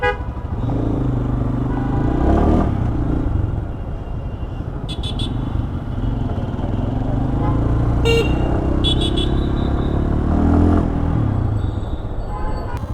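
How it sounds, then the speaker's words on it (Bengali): A motocross motorcycle revs hard for a wheelie among other bikes, engine notes rising and falling in surges over steady road traffic, with short bursts of horn toots and clattering heard at intervals. "মোটোক্রস চালাই, যদি হুইলি না মারি তাহলে হয়?"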